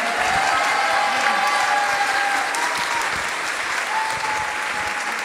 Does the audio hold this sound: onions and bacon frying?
no